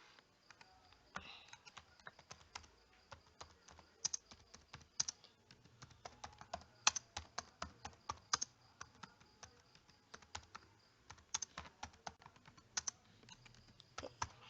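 Fingers type on a computer keyboard close by, a quiet, irregular run of crisp key clicks in quick bursts and short pauses, with no one talking.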